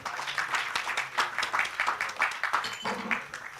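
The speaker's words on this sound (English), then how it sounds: "Another hand of applause." Conference audience at a regional health summit applauds steadily, a dense, moderate wash of clapping that holds evenly for a few seconds.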